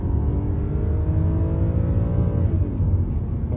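A BMW 325i pulls hard on a road test, its engine note steadily rising in a loud, continuous, close-up drone with rumble and road noise throughout.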